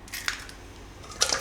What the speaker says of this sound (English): And going to break the 2 eggs.